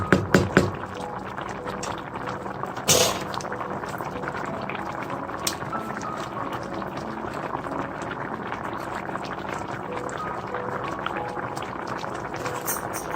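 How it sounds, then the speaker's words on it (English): A pot of cottage pie beef filling boils on the stove after simmering for several minutes, giving a steady, dense bubbling that continues on its own without any talking. "we brought this to boil for about 5 minutes."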